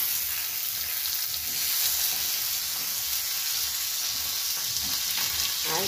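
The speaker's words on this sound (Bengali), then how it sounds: "ভাজতে হবে যতক্ষণ না এটা নিজের কালার চেঞ্জ, মানে কালারটা চেঞ্জ হয়ে যাচ্ছে ততক্ষণ পর্যন্ত" Capsicum fries in a pan with a continuous, even sizzle close by, with faint stirring scrapes and no talking.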